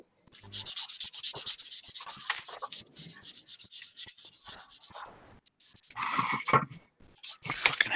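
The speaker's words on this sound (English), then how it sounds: "I don't think I've ever done so much bloody sanding and shit on a model" Sanding a plastic model aircraft kit, with steady bursts of abrasive rubbing strokes that come and go, fairly close and moderately loud, with no talking.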